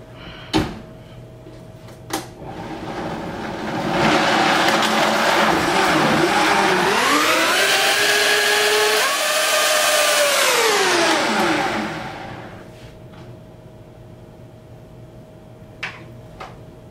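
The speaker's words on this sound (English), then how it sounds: "So now I'm going to throw this on my Vitamix." A Vitamix blender purees fruits and vegetables into a smoothie. After a few clicks it runs up to a loud, steady whirring roar for several seconds, then winds back down, followed by more quiet clicks.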